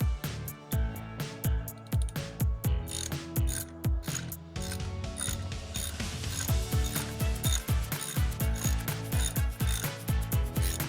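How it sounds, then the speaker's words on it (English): Rapid metallic ratchet clicking as Allen sockets turn bolts on an Excelsior motorcycle during clutch work, dense bursts of pawl ticks repeating close and loud throughout with no talk. "Allen wrench sockets, Allen sockets, fit these Excelsior stuff real tight"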